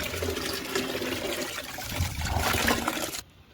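Water being run and sloshed in a tub while a lotus tuber is washed during repotting, a steady close splashing and trickling that continues for about three seconds before stopping abruptly.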